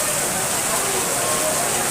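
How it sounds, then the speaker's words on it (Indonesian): Rain falls steadily during an outdoor religious gathering after a lunch meal, a dense even hiss that stays loud and constant throughout with no pauses. "suasana hujan"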